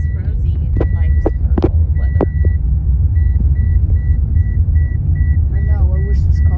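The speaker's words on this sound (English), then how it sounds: "this is how it rides. It rides real nice down the road." A vehicle rides along a wet road, a deep steady engine and tire rumble with an intermittent electronic beeping chime, while people talk inside the cab.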